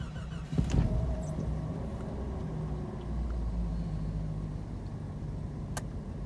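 A Jeep XJ engine cranks and fires into a steady low idle rumble, with a brief louder burst at startup settling into continuous running nearby.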